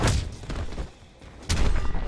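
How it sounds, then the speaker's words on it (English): An explosion in the fighting game Mortal Kombat X: a loud, close booming burst, then a brief lull, then a second heavy blast with rumbling impacts. "A random explosion."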